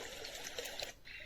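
A HOMGEN portable white noise machine plays its stream sound, a faint trickling and bubbling water texture, soft and brief with small gurgling pops.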